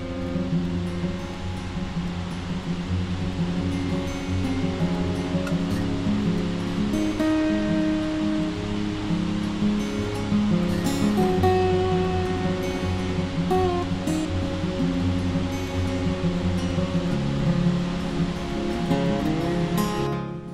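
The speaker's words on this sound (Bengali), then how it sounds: "মেঘালয় ভ্রমণে এই ঝর্ণাটা দেখতেই হবে" Waterfall in Meghalaya's Jaintia Hills, a steady broadband rush of falling water heard throughout, with faint background sounds and no talking.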